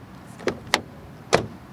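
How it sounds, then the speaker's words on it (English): Doors of a Mazda 3 sedan with the Skyactiv-X petrol engine shut in three short, solid thuds, close and alone. "Door closing sound."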